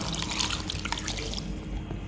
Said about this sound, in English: I will add a little bit more water